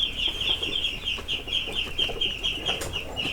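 Buff chicks peep and cluck in quick, repeated calls while being handled and set back into a brooder. The chirping is close and fairly loud, with a steady busy rhythm and no talking.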